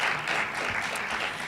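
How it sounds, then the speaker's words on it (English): Steady applause from a crowd at a diversity conference on race and journalism, dense and continuous, with no voices standing out. "So if I could get a round of applause for our professors."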